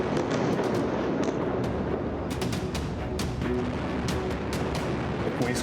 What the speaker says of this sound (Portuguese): A gente ouve aqui o som das explosões.